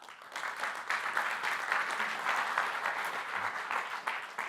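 Audience clapping welcomes a speaker onto a green hydrogen conference panel, a steady burst of applause holding for several seconds with slight swells, moderately loud and without talk.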